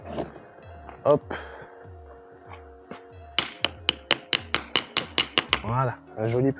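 A small hammer taps quickly in a fast run of about a dozen sharp, close strikes, with a few scattered knocks before it and a person talking around the hits.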